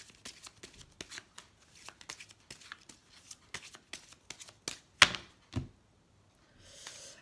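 Oracle cards are shuffled by hand in a quick run of soft riffling taps, close and quiet, ending with a couple of louder slaps as the deck is squared, then near silence.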